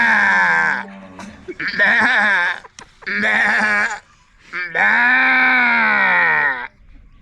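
A man imitates a goat with his voice, giving four long, wavering bleats separated by short pauses, loud and close, with a slight tremble in each call.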